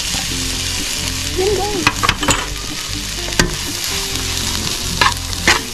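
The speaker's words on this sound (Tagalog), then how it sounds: "Maglagay lang tayo ng margarine. Sunod na natin ang ating sibuyas guys." Chopped onions sizzle loudly in melted margarine in a pan for sisig, with busy spatula stirring and several sharp scraping clacks over the constant frying hiss; a voice speaks briefly.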